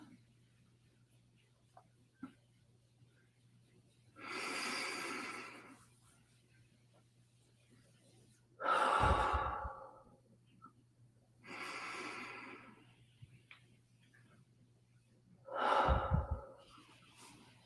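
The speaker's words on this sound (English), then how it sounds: "Breathing in and releasing our day." A person breathes slowly and deeply in a calm guided exercise, four long airy breaths spaced a few seconds apart, close and clear, alternating inhales and exhales with quiet pauses between.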